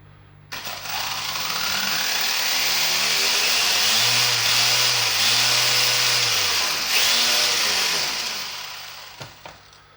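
A Wltoys 144001 RC car, rear-wheel drive on a 2200 mAh battery, spins its tyres in a burnout with a loud, steady high-pitched motor whine that rises and holds for several seconds, then winds down.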